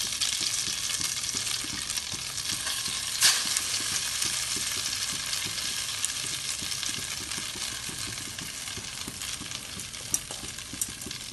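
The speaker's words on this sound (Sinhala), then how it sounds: "ඊට පසු අපි තම්බාගත්ත නූඩ්ලස් ටික මේ විදිහට දානවා" Boiled noodles hitting a hot oiled pan with beaten egg, giving a steady, close sizzle and fry with stirring scrapes and a few sharp clicks of utensils, no talking.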